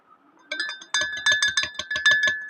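Sugar being stirred into an iftar drink in a glass, a spoon clinking against the glass in a quick run of about a dozen bright taps, close and clear with no talk.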